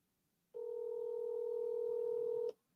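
Steady telephone tone of about two seconds, a single unbroken near-pitched hum heard alone over a quiet line, as a phone call rings out before being forwarded to voicemail.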